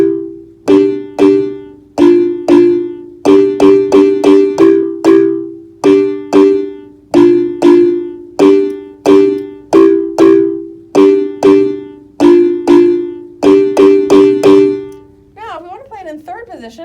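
Shamwari chord break on high-pitched mallet instruments in second position: bright, close struck two-note chords in a syncopated pattern with decaying tones, a brief wavering sound near the end.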